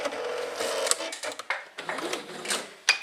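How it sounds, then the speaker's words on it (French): A sewing machine runs in short bursts and pauses, stitching a seam 1 cm from the fabric edges of a kimono poncho after the shoulder is pinned, close and moderately loud with clicks between runs. "je fais un point de couture à 1 cm des bordures"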